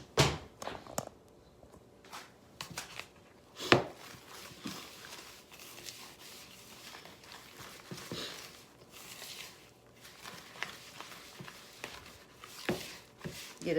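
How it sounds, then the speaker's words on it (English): Cookie bar dough mixed with oil being stirred in a bowl, a series of soft irregular thuds, scrapes and knocks of a utensil against the bowl, fairly close and quiet, with no talking. "Now we're going to stir this up. Make sure I got all the oil out of there."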